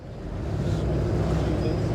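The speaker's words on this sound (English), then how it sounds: "engaging the engines, slowly but surely, and it will make for a lovely coming alongside" Twin-engine boat easing alongside a pontoon near Dartmouth with its engines engaged, giving a steady, continuous low rumble mixed with wind buffeting on the microphone and no talk.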